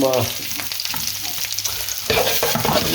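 Mushrooms fry and sizzle steadily in a pan for caramelised teriyaki mushrooms, with stirring and scraping sounds, and the sizzle gets louder near the end, close up with no talking.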